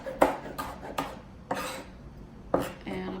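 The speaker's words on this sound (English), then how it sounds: "I'm gonna finish chopping up all the rest of these tomatoes" A knife chops tomatoes on a cutting board in a handful of sharp, uneven knocks, close and fairly loud, with faint rubbing in between and a low background hum.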